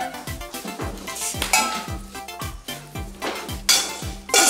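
A cup being washed at home produces a rapid run of close, bright clinks and clatters of crockery, with brief splashy bursts between the knocks.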